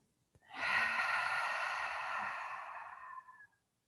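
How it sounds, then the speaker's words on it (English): A deep open-lipped exhale during slow yin yoga breathing: one long, breathy whoosh of air lasting about three seconds, steady then tapering off, close and alone in a quiet room. "We'll take a deep breath in through the nose. And open the lips to exhale."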